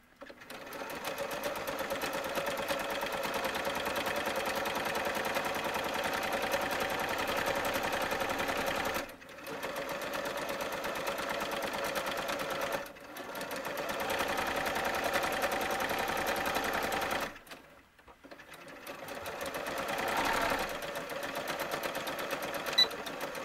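Sewing machine stitching a side seam through fabric pieces for doll shalwar pants, running loud and steady in long continuous bursts with two brief pauses, close by and without talk.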